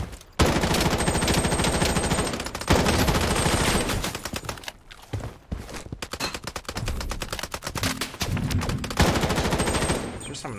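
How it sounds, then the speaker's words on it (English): M4A1 rifle fire in Project BloodStrike: long, dense, loud bursts of rapid automatic shots, broken by short pauses and some scattered shots in the middle, close-up with no talking. "Is there someone else shooting at me?"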